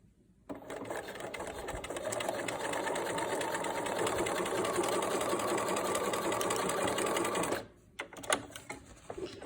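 Up close, a sewing machine stitches a fabric seam for a two-color mask, a loud continuous whirring run of about seven seconds that stops abruptly, followed by a few light clicks and handling sounds.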